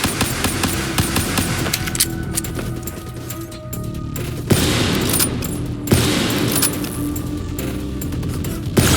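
Gunfire in the video game Call of Duty Black Ops 3, with dense, loud bursts of automatic fire and impacts in a busy battle scene, continuous and close.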